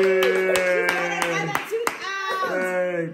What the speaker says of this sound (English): clap back for Toby. Yay!